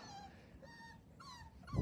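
Five-week-old Siborgi puppies whimper in thin, high, wavering cries, several short calls close by and quiet, with a soft thump at the end.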